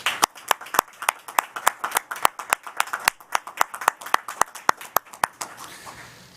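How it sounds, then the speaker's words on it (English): Audience clapping for graduates' families and friends at an indoor university hooding ceremony: a sparse, crisp round of separate sharp claps, close and fairly loud, thinning out near the end. "join me in a round of applause for all the family, friends, and loved ones joining us today"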